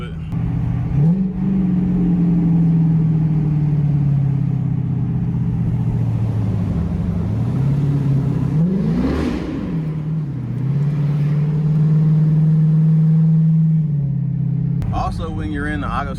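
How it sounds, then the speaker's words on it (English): A Dodge Charger Pursuit engine rumbles loudly up close, holding steady, then dipping and surging again as the car downshifts from second to first gear. A brief rise in revs marks the change, and a short voice is heard at the end. "If you go from second to first at a certain speed, it'll make a nice little rumble and pop to it."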